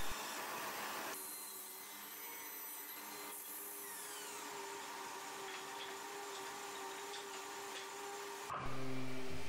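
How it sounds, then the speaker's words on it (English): Power saw cutting Marco Carpa timber into table legs, a steady whining drone with tonal hum that shifts as the cut proceeds, ending in a louder burst. "Here I'm cutting another set of legs."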